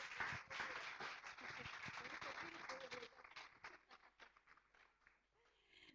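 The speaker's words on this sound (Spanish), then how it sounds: "Un aplauso" A church congregation applauds after a pastor is introduced, a dense faint wash of clapping that gradually thins out, with voices mixed in.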